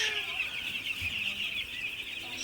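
Six-day-old broiler chicks on a farm at night peep in a dense, continuous chorus of high, overlapping calls, fairly close and steady, with no speech.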